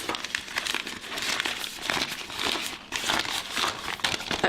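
Plastic icing piping bag with a metal tip being folded over at the top after filling, giving a steady close crinkling and crumpling that continues throughout with no talk.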